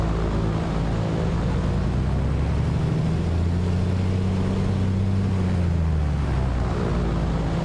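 Light aircraft piston engine during a propeller cycling run-up, a loud, steady droning hum whose pitch sags and then recovers as the prop cycles, with wind-like rush over the top and no talking.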